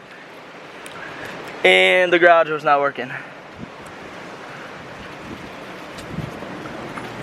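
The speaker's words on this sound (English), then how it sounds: "I don't know if you guys can hear the wind in the background" Strong wind roars steadily outside as a broad rushing hiss that runs the whole time, while someone speaks briefly over it near the start.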